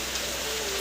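Heavy rain falls at a village home in Odisha, a dense, even hiss of downpour that fills the whole short moment with no clear voices.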